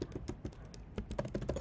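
Computer keyboard keys tapped while writing code comments, giving quiet, irregular clicks at close range with short pauses between bursts.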